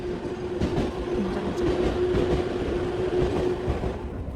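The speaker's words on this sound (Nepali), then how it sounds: "ट्रेन लागिरहेको रहेछ यो" A train pulls in at a station platform in Japan, a steady rumble of rolling wagons with faint clickety-clack and a thin squeal running through, fairly loud and without voices.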